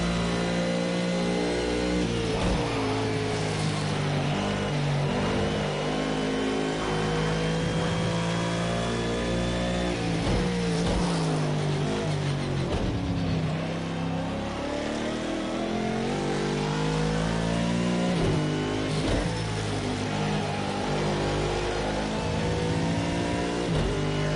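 A McLaren race car engine in Project Cars 2 during a time trial lap revs hard and continuously, rising and falling through gear changes with loud, steady acceleration and no talk over it.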